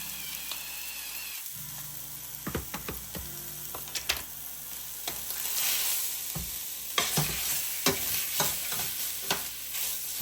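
Sausage sizzles steadily in a pan while a spatula scrapes and breaks it into small pieces, with intermittent clacks and scraping strokes over a constant frying hiss.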